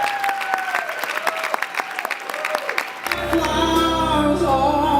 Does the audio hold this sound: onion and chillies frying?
no